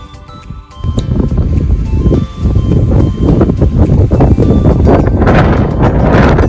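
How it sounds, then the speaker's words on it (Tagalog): Strong, cold wind roars and buffets the microphone continuously on a mountainside flower farm in Atok, Benguet, with a steady broadband rush after a brief quieter start. "Grabe yung hangin."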